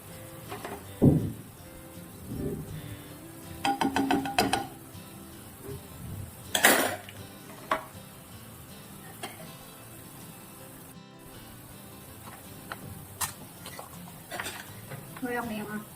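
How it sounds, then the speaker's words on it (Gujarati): A soy and chili sauce mix poured into a pan of Manchow soup, with a faint sizzle, intermittent stirring and a few clinks of a utensil against the pot. "સોયા અને ચીલી સોસ છે જે મિક્સ છે એ નાખીશું"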